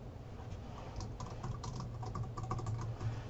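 Typing a bookmark name on a computer keyboard: quick, light key clicks in a steady patter, close and fairly quiet, over a low hum, with no one talking.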